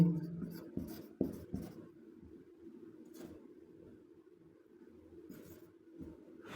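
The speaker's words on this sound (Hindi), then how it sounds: "हम जो है हैज़ लिखने के पश्चात सब्जेक्ट लिखेंगे, तो हम राधा लिखेंगे," Chalk or marker scratching on a board during a Hindi-language English grammar lesson on tense, with intermittent strokes and taps at a quiet, close distance and no talk over it.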